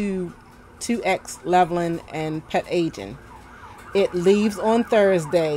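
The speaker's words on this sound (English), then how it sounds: "Excuse the siren, y'all." An emergency vehicle siren passes outside, its wail running faintly beneath a person talking steadily throughout.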